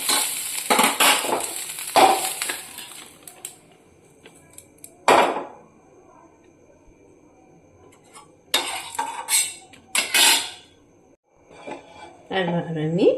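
Fried chicken cocktail sausages are tipped from a pan onto a plate, with several separate bursts of metal-on-crockery clatter and scraping spread across the clip between quiet pauses.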